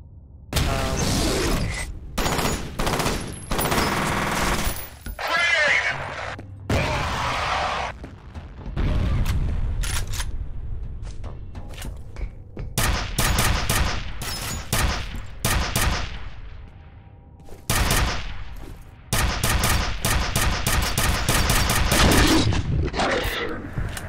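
Burst weapon gunfire in the first-person shooter F.E.A.R. comes as loud, dense clusters of rapid shots repeated throughout, with short gaps and some crashing impacts between bursts.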